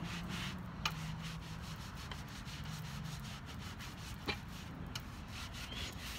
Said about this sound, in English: And you just rub it down.